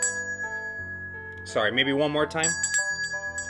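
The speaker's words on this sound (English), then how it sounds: "ring the bell over your hand just like this" A small magic trick bell gives a clear, bright ring that hangs and decays, then sounds again with a few lighter dings while someone talks over it.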